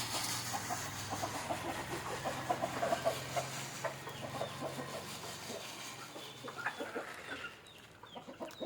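Country chickens in a farmyard at evening feeding time cluck steadily, several birds overlapping with short clucks and calls near and far, no talk.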